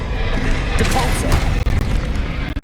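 Spell blast cast in the video game Hogwarts Legacy, a loud booming burst over dense battle noise, with a shouted voice layered over the fighting.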